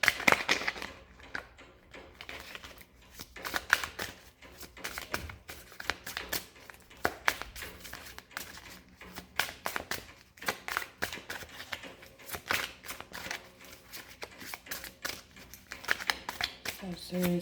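Tarot cards shuffled close by in a steady stream of crisp flicks, slaps and riffles, rising and falling in bursts through the whole stretch, with someone talking at times over the shuffling.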